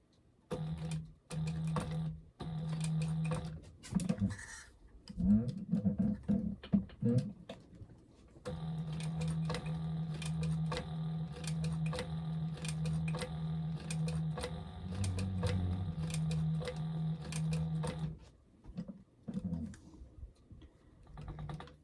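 A sewing machine runs edge stitching along a convertible tote backpack, going in slow bursts with stops, then a long steady run of rapid clatter, all close and without talk.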